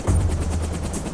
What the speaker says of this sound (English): 40 kilometers away, another helicopter is about to leave an oil platform.